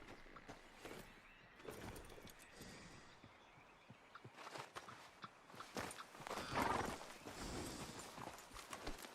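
Horse hooves clip-clop in a steady walking rhythm through the open-world game Red Dead Redemption 2, with faint ambient outdoor noise and occasional louder rustles.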